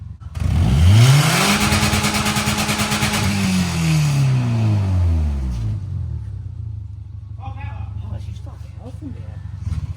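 Engine of a $190 Subaru with stock exhaust revs up, rising to a loud, sustained roar that slowly falls back to a steady idle, with brief voices near the end.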